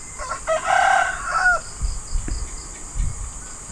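A rooster crows once nearby, a drawn-out call, followed by scattered clucks and soft bumps from chickens.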